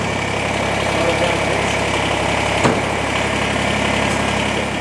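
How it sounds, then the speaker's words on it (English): A Kubota BX23S compact tractor engine idles steadily nearby, a constant droning chug with a brief knock partway through. "So he's gonna start the tractor up again."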